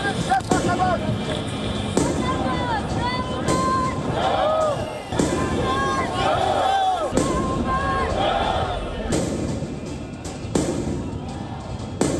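Fireworks launched by protesters at police lines near the Georgian parliament crack and boom repeatedly over a noisy crowd, with sharp bursts every second or two and shouting voices mixed in.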